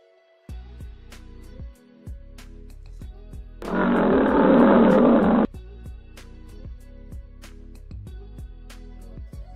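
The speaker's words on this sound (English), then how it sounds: "This is a lion. You already know that it can roar." A lion gives a single loud roar lasting nearly two seconds, standing out over a steady bed of rhythmic background music.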